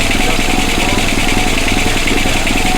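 A carbureted engine idles without the choke in a loud, steady, close-up rumble with an even mechanical pulse and no change in speed.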